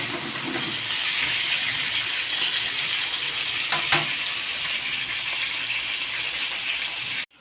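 Chicken pieces sizzle in hot oil in a pan, a steady loud crackling hiss that holds for several seconds, with a brief clatter partway through, then stops abruptly.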